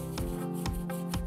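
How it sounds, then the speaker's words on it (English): Scotch-Brite pad rubbing across varnished wood on a boat, three short scuffing strokes in a steady rhythm, close and moderately loud. "Scotch-Brite doesn't really remove a whole lot, so you can go over and over it quite a bit."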